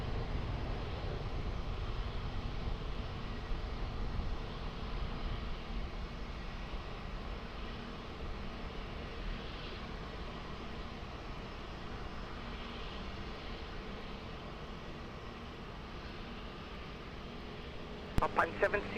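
A jet airliner lands on runway 20 at Lisbon Airport, with a sustained, broadband engine roar heard from a distance that holds steady throughout. A tower radio voice talks faintly over it, and a few sharp clicks come at the end.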